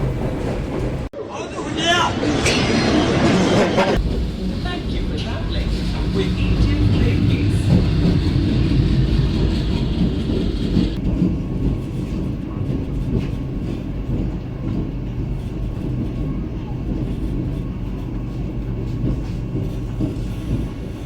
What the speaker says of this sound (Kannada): ನಮ್ಮ ಟ್ರೈನ್ ಬಂದತ್ರಿ ಈಗ ದಾವಣಗೆರೆ ಸ್ಟೇಷನಿಗೆ.